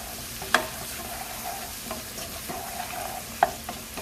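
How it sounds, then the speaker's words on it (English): Jerk chicken stirred in a pan with garlic and onion powder, a steady low sizzle broken by a few sharp utensil scrapes and taps against the pan, close and moderately loud. "Stir it."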